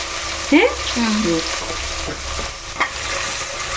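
Ginger paste frying in a pan with a steady close hiss of sizzling oil, brief utensil clinks and a short voice over it.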